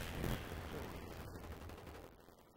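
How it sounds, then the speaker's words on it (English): Napalm strike in Call of Duty: Black Ops, a dense, roaring wash of fiery blasts and crackling gunfire that swells early and then rumbles on steadily in the background of an online match. "Napalm strike coming in."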